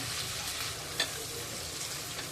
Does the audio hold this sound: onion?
yes